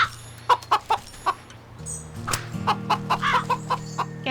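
Chickens in the video game Wytchwood give a run of short, close clucks in a quick uneven rhythm over a steady low game-music hum, with a busier stretch of clucking near the end.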